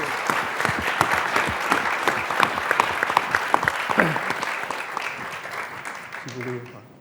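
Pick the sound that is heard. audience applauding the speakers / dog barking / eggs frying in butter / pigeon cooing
audience applauding the speakers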